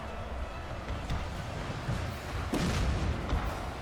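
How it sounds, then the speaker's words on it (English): Artillery fire in the video game Shogun 2 Total War during a massive battle of French Marines against samurai, a continuous rumbling battle din with a louder burst of booming near the middle. "And artillery still firing."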